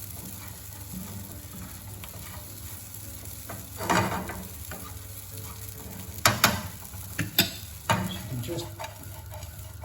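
Bread cubes being stirred and toasted in a dry pan, with a steady low background hiss and scattered sharp scraping clatters that grow busier toward the end, a brief word spoken over them.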